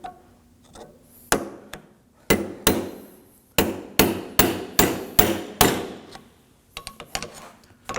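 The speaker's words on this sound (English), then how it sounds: "You should be able to grab a hammer and hit it, and it should slide off." A hammer strikes a front wheel hub on a 2014-2020 Acura MDX during bearing replacement, with about a dozen loud, sharp metallic blows in uneven bursts, some quick doubles, and quiet gaps between them.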